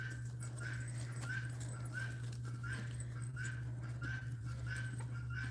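A guard dog on a goat farm gives repeated short whimpers or yelps in a steady rhythm, close by, over a constant low hum and outdoor background.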